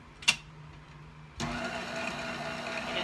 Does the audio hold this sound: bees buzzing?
no